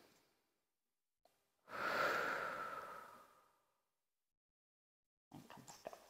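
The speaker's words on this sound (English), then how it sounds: "Big breath in and out." A deep exercise breath during an ankle balance workout, a long loud exhale rising and fading over about two seconds, with a short intake before it and faint rustling after.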